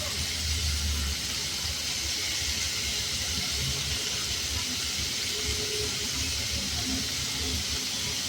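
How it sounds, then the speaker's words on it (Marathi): Paneer and onion sauté in a pan over low gas, giving a steady, continuous sizzle and hiss that holds at an even level throughout, with no talking over it. "तर स्लो गॅसवर आपल्याला सॉटे करून घ्यायचं आहे पनीर"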